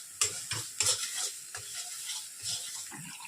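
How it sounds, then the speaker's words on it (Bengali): Poppy seed paste is stirred as it fries in a pan, a soft low sizzle broken by several distinct scraping strokes of the spoon, close and fairly quiet. "পোস্তটাকে একটু নাড়াচাড়া করে নিচ্ছি।"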